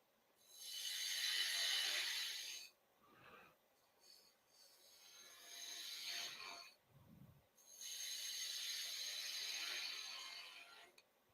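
A wood face on a woodturning lathe is trimmed with a skew: sustained rasping hiss in three long passes, each rising and fading, with quieter scrapes between and no talk.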